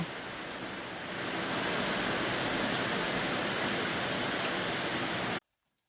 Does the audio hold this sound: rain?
yes